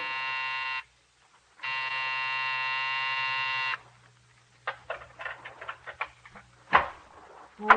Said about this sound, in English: when you pressed the night buzzer, it growled at you